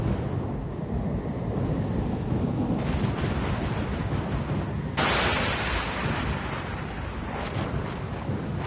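A thunderstorm at sea in the video game Pillars of Eternity II: Deadfire brings dense, roaring rain and wind, with a loud thunder crack midway that rumbles off slowly.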